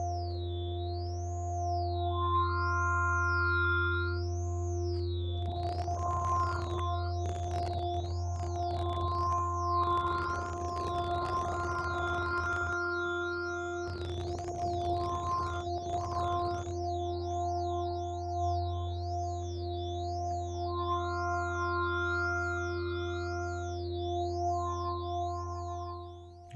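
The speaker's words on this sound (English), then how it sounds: "let's turn on some delay" Synthesizer tones with a wobbling, pitch-sweeping lead line shaped by envelope and LFO modulation, lows reduced, each note echoing and repeating as a delay effect trails behind it, steady and continuous.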